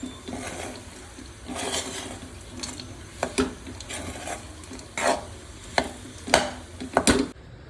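Dates and dry fruits are stirred together in a pan for a sugar-free date and nut roll, with a steady scraping stir broken by several sharper clinks of the spoon against the pan, close and fairly quiet, without talk.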